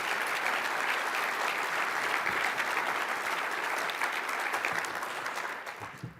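Sustained applause from the audience at a 2015 State of the City presentation held with the Minneapolis Regional Chamber of Commerce, loud and dense for several seconds before thinning out near the end.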